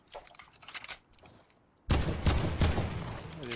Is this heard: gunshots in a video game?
yes